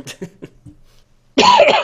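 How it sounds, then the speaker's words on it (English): A person coughs several times, close to the microphone: a few short, dry bursts, then a louder, longer fit of coughing. "Sorry, coughing again."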